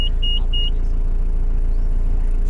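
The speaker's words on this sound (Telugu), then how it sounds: "ఇప్పుడు మనం బండి స్టార్ట్ చేయడం కూడా జరుగుతుంది. స్టార్ట్ చేసినాము." A geared road vehicle's engine runs at a steady idle, a close, continuous low rumble, with a few short electronic beeps at the very start.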